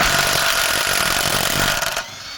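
A Grosser GTW 300 cordless impact wrench hammers loudly and steadily on a car wheel nut for about two seconds, then cuts off as the nut breaks loose.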